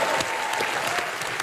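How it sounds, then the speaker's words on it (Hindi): Studio audience applause at a comedy show, a steady dense burst of clapping from a crowd, loud and close, lasting a moment on its own. "तालियां हो जाए जरा"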